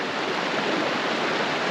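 Cool stream water flows steadily at a cooling-off spot along a bikepacking route, a soft, even, close rushing wash with no voices.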